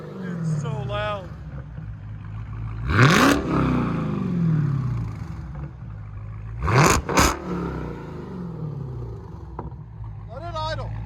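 A Dodge Challenger Hellcat with a supercharged 6.2L Hemi V8 and Flowmaster Super 10 exhaust revving hard twice, with loud rising roars separated by a low burbling idle, and a brief third blip at the end.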